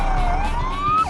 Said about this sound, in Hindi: सायरन की आवाज सन्नाटे को चीर रही है